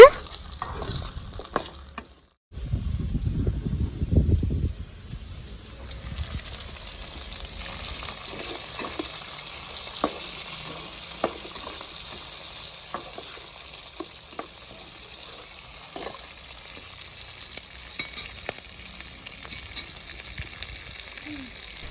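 Big and small onions fry in a pan for a Tamil egg gravy, giving a steady close sizzle with faint ticks and crackles, after a brief louder rumbling handling noise at the start.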